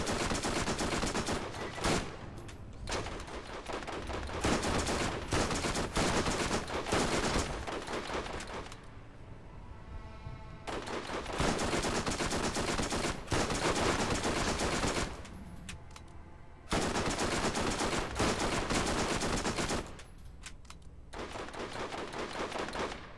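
Rapid submachine gun fire in Borderlands, loud dense bursts of automatic shots running almost continuously, broken by a few short pauses between volleys.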